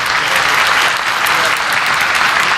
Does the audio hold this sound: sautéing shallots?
no